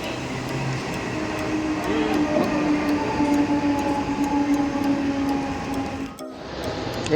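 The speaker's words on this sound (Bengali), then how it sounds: "একটা ট্রেন ঢুকছে আমাদের" A train rumbles steadily into a station, a low drone with a faint metallic whine, then briefly cuts out near the end.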